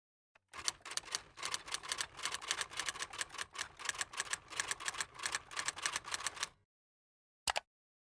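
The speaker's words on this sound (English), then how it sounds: "I'm just going to type here." Rapid, steady clicking of keys being typed on a keyboard while customizing a Plum Paper planner layout, close and fairly quiet, running for about six seconds before a brief final pair of taps.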